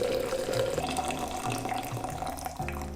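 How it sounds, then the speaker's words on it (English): Boiling water pours steadily into a glass for boba, a close, continuous trickling rush lasting throughout with slight changes in pitch as it fills, no talking. "I'm really scared of pouring boiling water in here"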